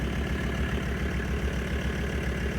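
A 1994 Toyota 4Runner fitted with a Mercedes turbo diesel engine idles steadily and close by, a low, even rumble that holds constant with no talk.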